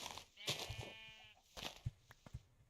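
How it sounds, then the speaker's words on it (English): Sheep in the Minecraft Aetherial Airships modpack give several short bleats, two close together near the start and more scattered later, fairly close and clear over a faint game background. "I hear sheep. Where are you, sheep?"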